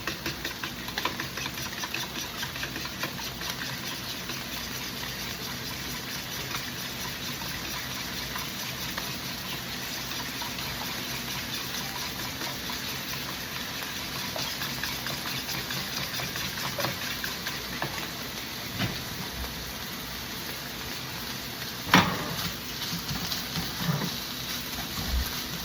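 Bacon sizzling in a pan while egg and ham quesadilla fillings are prepared, a steady broadband hiss and crackle running throughout with a few louder pops near the end.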